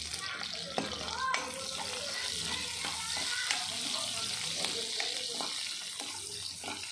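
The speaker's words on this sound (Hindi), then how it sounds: "यहाँ पर हम डालेंगे हरी मिर्च, इसे थोड़ा सा सौटे करिए।" Green chillies sautéing with chopped onion in a pan for restaurant-style chicken 65 give off a steady, close sizzle and hiss with a few faint scrapes throughout.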